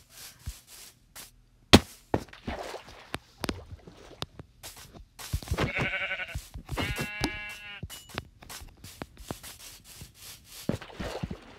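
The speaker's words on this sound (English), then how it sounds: "Look at the sheep." Sheep in the Minecraft video game bleat in short, wavering cries with game sound effects, clicks and footsteps around them, moderately loud and with no talking.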